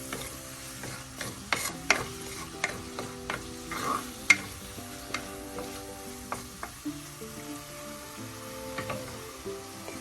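Onions sizzle in a pan over a medium flame for tuna curry. A spoon scrapes and clinks against the pan every so often over a constant frying hiss, close and alone.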